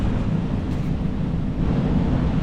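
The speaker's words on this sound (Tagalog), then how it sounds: "Sobrang hangin nga" Strong wind buffets the microphone high above the sea while parasailing off Boracay, a steady, loud low roar with broadband rushing that never lets up, likely mixed with distant surf.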